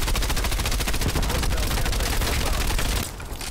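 A gun in Call of Duty Black Ops Cold War empties a 50-round magazine in one loud, rapid, unbroken burst of automatic fire lasting about three seconds, then stops abruptly.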